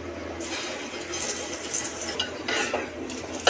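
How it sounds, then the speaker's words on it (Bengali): Lentils frying in hot oil for a dal bhuna are stirred in a pan, giving a steady close sizzle broken by scraping spoon strokes and a few sharper clinks of utensil against the pot. "এখন আমি ডালটা তেলে ভাজে নেব"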